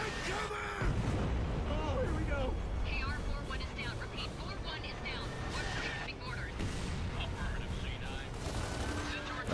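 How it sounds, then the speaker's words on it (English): Gunfire in the PC port of the shooter Gears of War 2, heard as scattered sharp bursts and booms amid a busy cinematic soundscape with voices, fairly quiet overall and continuing throughout. "I hear gunfire."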